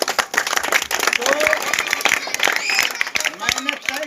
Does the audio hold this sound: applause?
yes